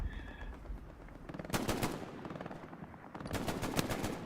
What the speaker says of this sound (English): I could just hear those MGs out here shooting.